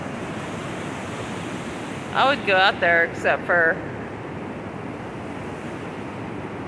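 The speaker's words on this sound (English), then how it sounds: "Amazing waves." Ocean surf rolls steadily as a continuous broadband wash with wind noise on the microphone, while someone talks briefly over it partway through.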